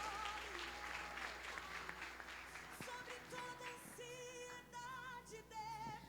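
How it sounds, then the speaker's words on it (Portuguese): A church congregation claps during a Portuguese-language service, the applause mixed with music and sustained tones, while clapping thins out partway through. "Você pode aplaudir o nome do Senhor."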